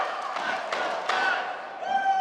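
At a professional pickleball match in Salt Lake City, a big indoor crowd roars and cheers steadily, with sharp paddle pops and a swell of noise near the end.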